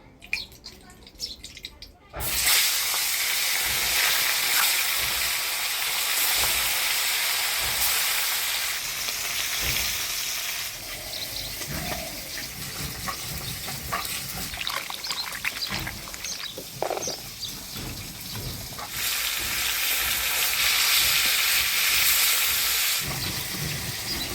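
Fish frying in hot oil in a home kitchen, a loud, continuous sizzle and hiss that starts abruptly and holds steady, with a person talking over it.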